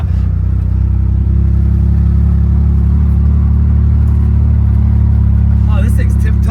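A Chevrolet Corvair convertible creeping slowly down a driveway, its engine giving a loud, steady low drone close by that barely changes pitch throughout.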